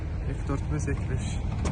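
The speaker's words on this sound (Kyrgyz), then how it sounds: "Электро көтөргүчтөр" Electric power windows in the cabin of a 2009 Toyota Camry with a 2.5-litre engine and automatic gearbox whir steadily at close range while someone talks over the motor sound.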